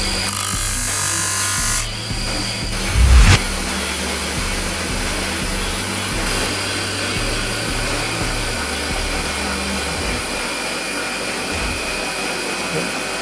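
A bushcraft knife made from an old steel file is sanded with 120-grit abrasive, likely on a powered sander, giving a continuous loud whirring hiss with a brief heavier scrape early on, steady throughout.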